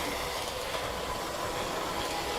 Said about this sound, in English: and you got the train running good.